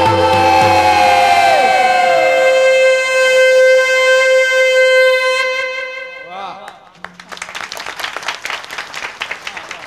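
A voice imitates a conch blast at a Shiv Jayanti kirtan: one long, loud, buzzing horn-like tone held for about six seconds, then a warbling tail, followed by a burst of crowd clapping.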